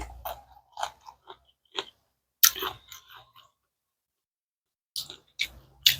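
Close, wet chewing of sticky rice in bursts with short pauses between mouthfuls, soft crunchy and squishy bites, no talking.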